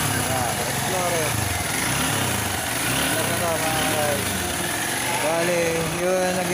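Small engine with a newly repaired CDI running and idling steadily, a buzzing drone with rising and falling revs, heard under someone talking close by.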